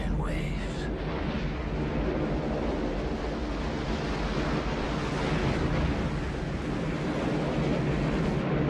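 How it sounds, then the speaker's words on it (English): Giant ocean waves crash and roar in a steady, dense wash of surf with heavy wind noise, loud and continuous throughout. "Giant waves."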